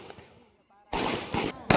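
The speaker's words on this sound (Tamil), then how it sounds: "இந்த பட்டாசு வெடிக்கிறது ரொம்ப சூப்பரா இருக்கும்." Firecrackers go off at a village temple festival in several loud, crackling bursts after a quieter stretch with faint voices, the blasts coming close and sharp in quick succession.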